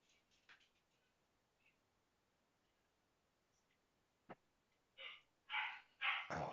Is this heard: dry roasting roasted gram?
no